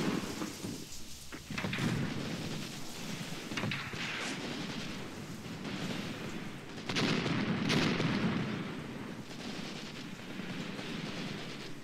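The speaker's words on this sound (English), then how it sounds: "I'm assuming that the rain doesn't make this any easier." Heavy rain and rolling thunder fill a battlefield in the Graviteam Tactics Mius Front war game, a steady loud downpour hiss with deep rumbles swelling around the middle, no voices present.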